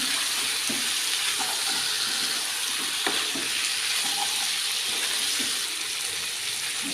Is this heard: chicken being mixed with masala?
yes